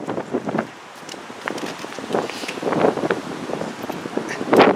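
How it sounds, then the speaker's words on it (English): Wind blowing outdoors, gusting unevenly against the microphone with rustling and buffeting, under a voice speaking. "a small struggle at the moment is keeping my hat on while the wind blows"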